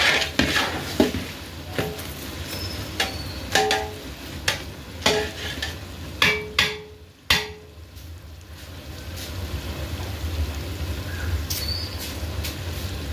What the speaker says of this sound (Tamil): இதே மாதிரி நல்லா கீழே மேலேயே கொஞ்சம் பரட்டி விட்டிங்கன்னா அடி பிடிக்காமல் சூப்பராக செய்யலாம்